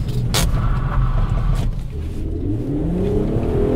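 A VW Golf 5 R32 engine accelerates hard in second gear out of a tight hairpin, a loud, steady revving roar with rising pitch heard from inside the car.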